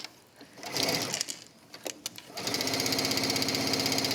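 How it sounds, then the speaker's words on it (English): A sewing machine stitches the side seam of a wrap dress, starting after a few soft handling rustles and then running in a steady, close, rapid mechanical whir. "I'm stitching down the side seam."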